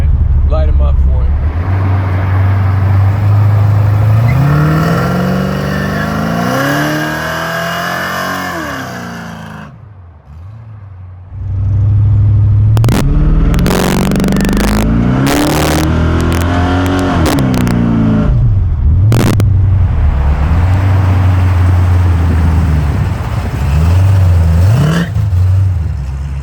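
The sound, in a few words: Chevrolet El Camino engine revving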